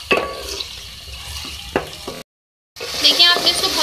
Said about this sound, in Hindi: देखिए आपने इसको बहुत ज़्यादा फ्राई करना है लहसुन के साथ